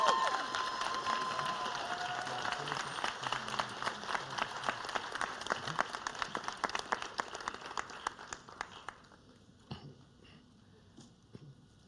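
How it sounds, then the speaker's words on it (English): An audience at an academic excellence award ceremony applauds a recipient, with dense sustained clapping from a crowd in a hall that thins out and fades to a few scattered claps near the end. "Let's give Sarah a round of applause."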